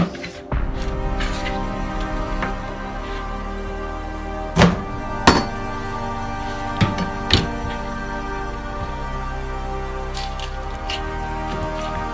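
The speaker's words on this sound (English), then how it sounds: "I cut the onion into 4 slices like this" A knife slices an onion into four pieces in a kitchen while meat cooks on the stove. A handful of sharp, close knocks on a board sound over a steady background hum.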